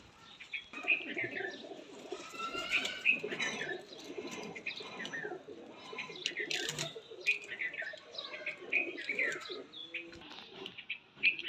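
A pair of Banke pigeons coo softly and intermittently close by, with faint chirps and a brief flutter of wings, while someone talks over them.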